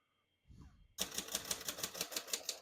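A faint murmur, then a quick, steady run of key strikes on a 1951 Royal Quiet De Luxe portable manual typewriter, clacking close and crisp in an even rhythm.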